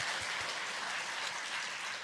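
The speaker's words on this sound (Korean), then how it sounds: "하나님께 영광 박수를 드리겠습니다" Church congregation clapping during a Korean Sunday worship service, a soft, even wash of applause that continues steadily, somewhat distant and faint.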